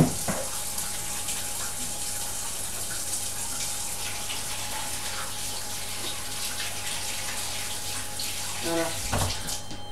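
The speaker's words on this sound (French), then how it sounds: "Donc on va commencer par donc se laver les mains déjà." Water runs steadily from a tap in a home kitchen while hands are washed before baking homemade cookies, a continuous gushing splash with a brief voice near the end.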